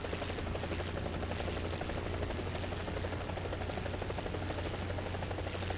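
A Huey helicopter in the combat game War Thunder flies with a constant, dense rotor thump and turbine whine that stays close and loud throughout, steady and uninterrupted, with no voices.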